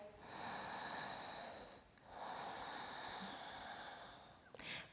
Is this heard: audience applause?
no